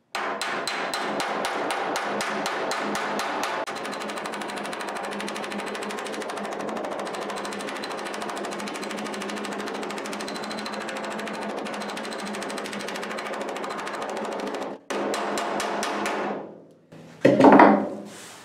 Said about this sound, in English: just try to hammer that down just a little bit.